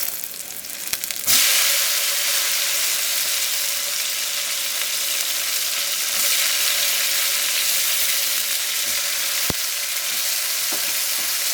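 Tomatoes hit a hot pan of onions and fry with a sudden loud sizzle that settles into a steady bright crackle, close by, with occasional stirring clinks.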